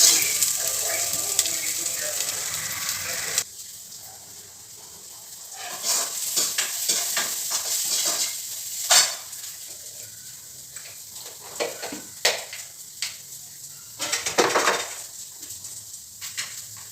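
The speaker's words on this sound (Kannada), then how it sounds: "ಸೊ ಈರುಳ್ಳಿ ಫ್ರೈ ಆಗಿದೆ" Chopped onions fry in oil in a pan, a soft sizzle under intermittent stirring scrapes and clinks of a utensil against the pan.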